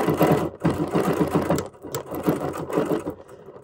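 Sewing machine stitching quilting lines across a fabric table runner, a steady rapid needle chatter that runs in close bursts with short pauses between them.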